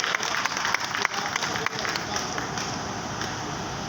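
Audience applause at a Pakistani stage drama show: a dense crowd clapping steadily, loud and continuous, with a few sharper claps standing out early before it evens into a uniform roar.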